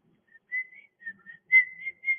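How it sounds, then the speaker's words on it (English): Someone whistles a short, wavering tune at a live auction, soft and thin, with several uneven notes and brief gaps. "I gotta work on my whistling"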